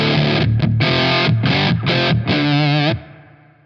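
A Tungsten Single Plex 5-watt Plexi-style valve amp with spring reverb plays loud, distorted electric guitar: a few chopped chords in quick bursts, then one sustained chord that rings out and fades into reverb tail.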